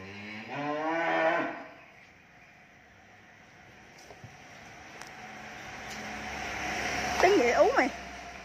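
Cattle at a cow farm in Mỏ Cày Bắc district, Vietnam: one loud, close moo opens the scene, then a quiet stretch of faint outdoor background follows before a second wavering moo near the end.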